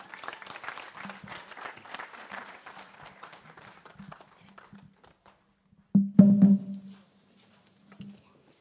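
An audience at the O3 Plus project launch applauds the students, the clapping thinning into scattered claps before fading out; a short, louder burst follows after a pause.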